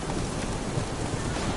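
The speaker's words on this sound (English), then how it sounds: "Rain cleans the city's streets of filth." Steady rain pours down in the streets of a city in The Witcher 3, a dense, even hiss of falling water with a low rumbling undertone, continuous and fairly loud throughout.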